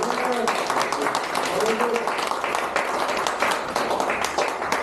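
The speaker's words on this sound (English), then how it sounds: "please a round of applause for our panelists" A panel audience applauds the panelists with dense, steady clapping that fills the whole stretch, with voices talking over it.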